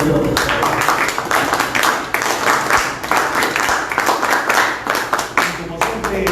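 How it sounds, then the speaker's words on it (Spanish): An audience at a political gathering applauds an ambassador with sustained, dense clapping throughout, steady and fairly loud, with some voices mixed underneath. "Un aplauso para el embajador Gustavo Otero."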